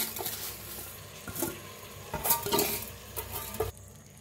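Washed rice poured into oil and stirred to roast, close spoon scraping and soft sizzling with a few clinks against the pot, brief and steady.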